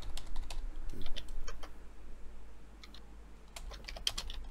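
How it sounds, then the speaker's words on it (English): Quiet bursts of typing on a computer keyboard during an online drawing-and-guessing game, irregular clusters of key clicks with pauses between, close and soft, no talking. "I'm just really slow with typing the words out"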